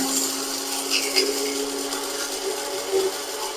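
A newly bought electric blender runs in a steady high whirring drone for a few seconds, close and alone.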